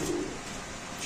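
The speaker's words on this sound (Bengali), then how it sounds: "সিরাজি কবুতর।" A Sirazi pigeon kept for sale at a pigeon seller's stall gives a short, soft, low coo near the start, followed by quiet background ambience.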